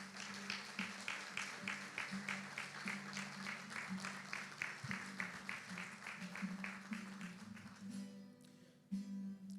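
A church congregation applauds during a service, many hands clapping in a steady, rhythmic pulse for several seconds before the sound thins into scattered claps and room noise.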